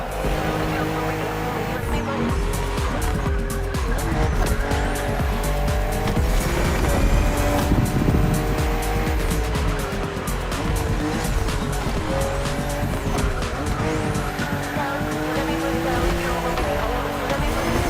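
A BMW M4 CSL from The Crew Motorfest roars at high revs through repeated gear shifts, tires squealing and skidding through corners, with the engine loud and close throughout.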